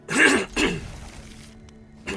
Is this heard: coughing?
yes